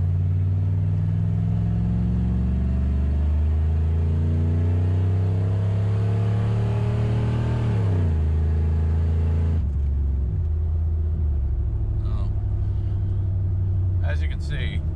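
A 1994-2001 Ram 1500 pickup with 4.56 gears floored from a stop, its engine note climbing steadily through a long rising pull, then dropping and rising again after a shift, loud and close with someone talking over it.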